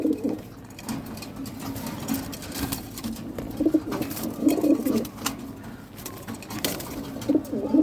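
Racing pigeons coo in repeated soft, throaty bursts at close range, overlapping with rustling and light background clatter from a loft.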